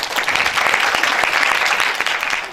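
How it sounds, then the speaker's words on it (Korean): Audience applause welcoming a company CEO to a university entrepreneurship lecture, a steady dense wash of clapping from a crowd lasting throughout without a break. "대표님을 큰 박수로 맞아주십시오."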